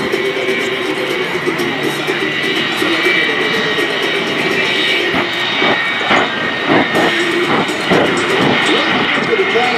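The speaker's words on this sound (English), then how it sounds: "this incredible jet truck. Hot Streak 2." The Hot Streak 2 jet-powered Chevy pickup truck roars at a military air show, a loud sustained jet blast that swells and crackles, with an announcer talking over it.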